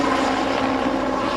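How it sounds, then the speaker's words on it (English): A rescue helicopter flies over a flood zone in Texas, its rotor and engine making a loud, steady, close drone that fills the whole moment with no voices. "Rescue helicopter."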